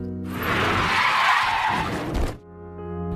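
A film car skids before hitting a man, a loud, sustained tire screech lasting about two seconds that cuts off abruptly into a low rumbling background.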